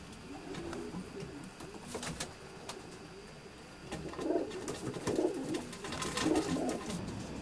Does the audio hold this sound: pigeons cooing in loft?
yes